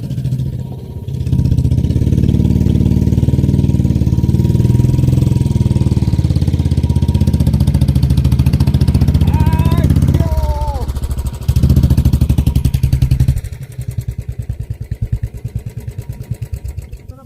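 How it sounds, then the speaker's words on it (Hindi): A motorcycle engine labors steadily while climbing a steep single-track mountain path in Himachal Pradesh, loud and close, with a brief drop and a revving surge near the end. "तो बाइक ऊपर चढ़ गई है"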